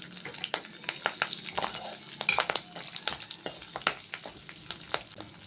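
Curry leaves and green chillies frying in a pan for an onion curry, giving a steady close crackle and sizzle broken by sharp pops and the scrape of stirring, with no talk.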